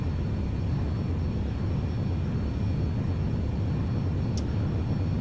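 Airliner jet engines roar steadily during a takeoff roll in the X-Plane 11 flight simulator on a Brisbane to Sydney flight, a continuous loud low rumble with no talk.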